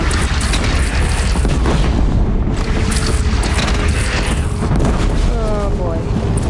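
A bridge comes down in the video game Horizon Zero Dawn with loud, continuous rumbling booms and crashing debris. Voices talk over the destruction.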